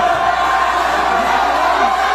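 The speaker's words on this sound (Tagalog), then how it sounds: "At sa ating Escalona ay sumigaw din kayo." A crowd at a local basketball game shouts and cheers continuously, a dense loud roar of many voices filling the whole stretch without pause.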